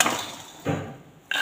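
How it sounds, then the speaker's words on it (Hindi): Crispy roasted makhana (fox nuts) stirred in a pan, giving short, bright rattling crunches in two or three bursts separated by quieter gaps, close and moderately loud. "ये देखो गाइस आवाज़ भी आ रही होगी आपको करारेपन की"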